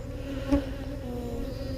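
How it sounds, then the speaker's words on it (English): Honey bees, likely nurse bees feeding brood on a frame in a Texas hive, hum in a steady low buzz that stays close and constant, with a brief louder swell near the start. "Those are probably nurse bees. They're feeding them."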